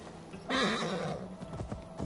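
A horse whinnies loudly in Assassin's Creed Valhalla, a single rising-and-falling neigh that starts abruptly and is followed by a few soft hoof clops, with no talking.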